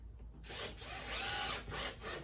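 A power driver runs screws into a homemade armrest for an Audi TT, giving a close whirring drive that starts after a brief pause and rises and falls over about two seconds, with no talking.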